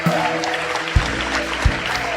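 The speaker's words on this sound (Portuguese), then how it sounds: "A igreja pode aplaudir o Senhor" A church congregation applauds during a worship service, with steady clapping under a sustained musical tone and two heavy low thuds.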